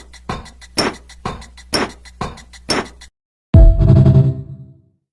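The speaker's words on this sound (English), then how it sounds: "and here's a drum kit." Drum kit built from pitched Minecraft game sounds, playing a steady beat of six short, sharp hits, then a pause and one heavy, booming tonal hit that rings out and fades.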